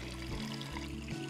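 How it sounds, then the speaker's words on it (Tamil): Water is poured into a cooking pot over banana stem, a steady pouring and splashing stream that runs continuously at close range with no talk. "வாழைத்தண்டு வந்து வேகிற அளவுக்கு தண்ணி ஊத்திக்கலாம்"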